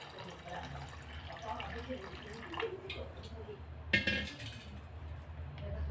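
Water is poured over half a kilo of washed sago pearls in a container, giving a soft, steady splashing and trickling under quiet background noise, with one sharper splash near the end.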